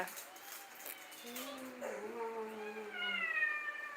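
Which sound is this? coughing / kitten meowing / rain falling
kitten meowing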